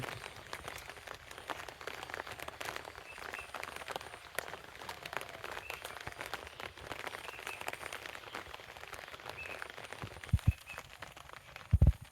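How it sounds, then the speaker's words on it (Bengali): Rain falls steadily over a village field, a soft, even wash of patter with no voices and a couple of brief low thumps near the end. "একটু বৃষ্টি কিন্তু একটু একটু করতে করতে মোটামুটি অনেক বৃষ্টি হয়েছে"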